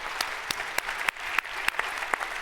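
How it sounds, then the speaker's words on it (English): Audience at a panel discussion applauding the panelists, sparse separate claps from a small group, fairly light and close. "Let's give a round of applause to our panelists at this stage."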